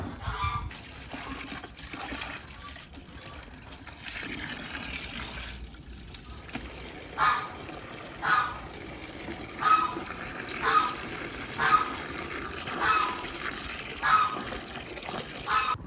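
Water runs and splashes from a tap, steady at first, then gushing in a series of regular surges toward the end.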